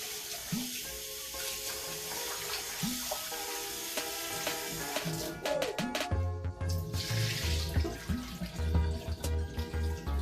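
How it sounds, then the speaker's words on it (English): Water runs steadily from a tap, splashing with clinks and swishes as rice is rinsed in a container underneath, close by and without talk. "I wash it 1 more time,"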